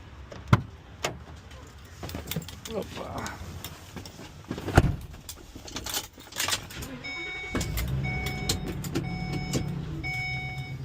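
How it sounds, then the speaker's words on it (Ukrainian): A rented 15-foot truck: a few sharp clicks and door thumps come first, then the engine starts and settles into a steady low idle, with a repeating warning chime on top and a brief voice nearby. "Це наша машинка на сьогодні."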